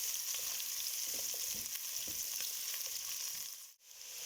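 Onions fry in a pan with a soft, even sizzle, and faint stirring scrapes come through now and then before a brief dip near the end.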